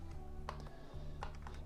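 Keys tapped on a Casio calculator: two crisp, close clicks about three-quarters of a second apart, faint against a low steady hum, with no talking.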